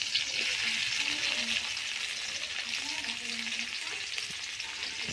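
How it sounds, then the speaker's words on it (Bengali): Onions fry in hot oil with a loud, steady sizzle that holds for the whole stretch, with only faint low murmurs underneath. "এখন পেঁয়াজ ভাজবো"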